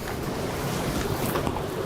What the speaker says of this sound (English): it is exceptionally windy